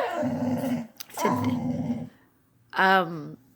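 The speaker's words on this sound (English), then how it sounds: "That's my dog, y'all." A dog growls and barks in a few close, loud bursts, the last a sharp high bark, with short pauses between them.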